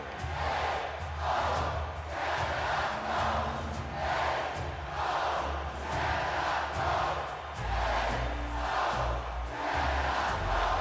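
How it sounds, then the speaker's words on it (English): An arena crowd at a Canada versus Finland world junior hockey game chants a rhythmic cheer in regular pulsing waves, loud and collective, repeating roughly every second or so. "Hockey Canada's new cheer"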